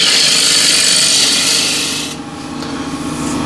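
A steady scraping, rasping cut of a bowl gouge against spinning wood on a lathe, working the inside of a bowl, close and continuous, easing slightly near the end.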